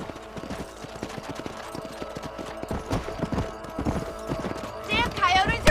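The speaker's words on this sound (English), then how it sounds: "Let's get going" Horse hooves clip-clop at a steady trotting rhythm in the Red Dead Redemption video game, close and clear, with game dialogue and ambient sounds over them and a whinny near the end.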